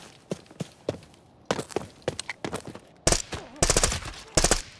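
Rapid bursts of automatic gunfire crack out in a firefight in the video game Arena Breakout Infinite, starting as scattered shots and building to dense, loud volleys in the second half, with footsteps between them.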